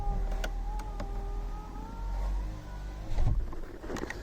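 A car window is wound up inside the vehicle, a faint steady motor whine under engine rumble and road noise, ending with a few soft thumps and knocks near the close.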